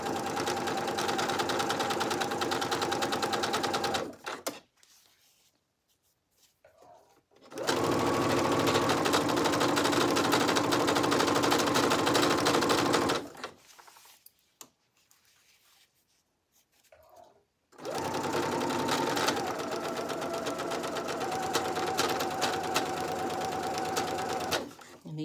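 A sewing machine stitches shoulder straps together for a Simplicity 9745 garment in three loud bursts, with quiet pauses between them.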